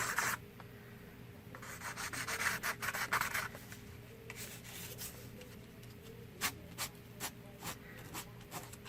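Soft pastel stick rubbed along the edge of craft paper, a dry, scratchy rasping in bursts of short strokes, louder in a steady stretch early on, then separate brisk swipes, close and alone.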